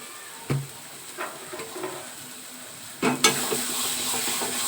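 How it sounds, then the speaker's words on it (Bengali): Taro leaves (kochu shak) with added sugar being stirred in a pan, with a few scattered spoon scrapes and clinks over a low, steady sizzle that swells near the end. "দিয়ে ঠিক এইভাবে গোল গোল করে ঘোরাতে হবে।"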